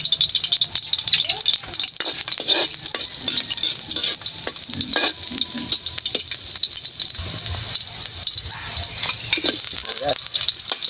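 Spicy pata ingredients sauté in a hot pan, with steady sizzling and frying plus stirring scrapes and rattles continuing throughout, fairly loud and close, with no voices over it.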